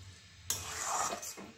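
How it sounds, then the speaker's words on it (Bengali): A spoon stirring boiled methi greens mixed with chickpea lentils in a pan, a soft scraping swish that starts abruptly, runs for under a second, then gives two brief follow-up strokes; quiet and close. "ভালো করে সাগের সঙ্গে মিশিয়ে নেব।"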